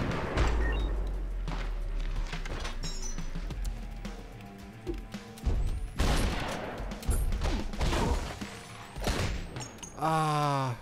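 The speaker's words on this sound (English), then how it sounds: "Ah, I broke the wall." A wall smashes apart in the top-down action game Mr Shifty, with crunching crash bursts over a dense backdrop of rapid gunfire, clinks and thuds, plus electronic game sounds near the end.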